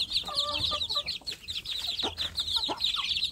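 Young village chickens (ayam kampung), recently hatched chicks, peeping rapidly and continuously with scattered soft clucks, close by and with no talk.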